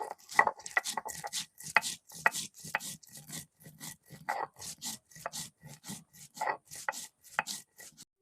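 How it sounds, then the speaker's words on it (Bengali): Spices with onion, turmeric, salt and green chilli are ground on a grinding stone in a home kitchen, giving a steady run of short rhythmic scraping strokes, close and even-paced, with no talk. "এবার আমি মশলা বেটি নেব"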